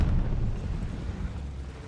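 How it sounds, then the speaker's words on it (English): Call of Duty Vanguard friendly bombing run: a heavy, rumbling blast with a low roar that slowly fades in the battlefield game. "Friendly bombing run inbound."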